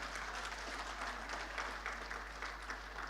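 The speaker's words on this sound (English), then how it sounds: "A big round of applause then again" A conference audience at an HR event gives a steady round of applause, even and continuous clapping heard from a distance in a large hall.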